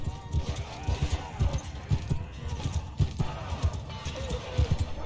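Hooves of horse archers pound in a fast, continuous galloping patter across a video game battlefield, dense and busy with crowd noise mixed in.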